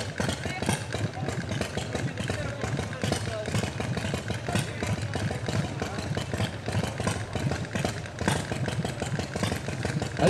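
A motorcycle engine runs close by, its uneven idle rattling and pulsing in rapid bursts with a few slight rises in revs, under crowd chatter at a bikers' gathering in Carnon.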